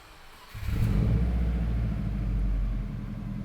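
A Subaru Forester XT with a manual clutch, unused for about six months, cranks and fires up, then settles into a steady low engine idle heard close by.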